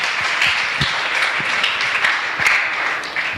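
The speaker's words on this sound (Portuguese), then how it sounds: "Dê uma linda salva de palmas para o Senhor" A church congregation applauds during a worship service, a continuous, fairly close crackle of many hands clapping at an even pace with no voices over it.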